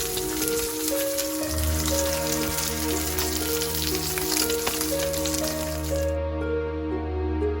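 A 45-day dry-aged NY strip steak sizzles steadily in a cast iron skillet after being flipped, a close, continuous crackling hiss with a low steady hum underneath.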